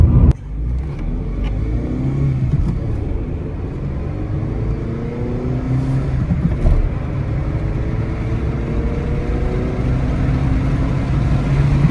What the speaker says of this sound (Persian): این از 0 تا 100 207 فرانسوی بود